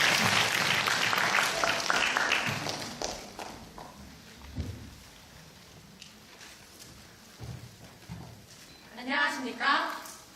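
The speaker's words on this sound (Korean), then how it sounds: "박수로 모시겠습니다." Applause from an audience greets two student presenters at a disability-rights presentation contest, loud and dense at first, then thinning into scattered claps and shuffling before fading under a voice that starts speaking.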